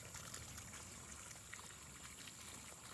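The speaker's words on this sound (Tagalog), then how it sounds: "Tulo ng tubig." Faint water trickles and drips from a drum into a plant-watering container outdoors, a quiet continuous dribble with light irregular splashes and no speech.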